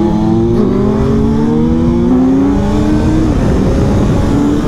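A Suzuki GSX-S 1000 World Edition motorcycle engine revs hard in first gear during a wheelie attempt, a loud rising roar with climbing pitch that drops off near the end, heard close with no speech.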